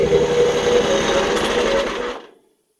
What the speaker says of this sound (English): Pull out the choke.